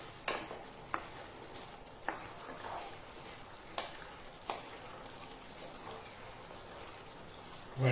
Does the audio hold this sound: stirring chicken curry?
yes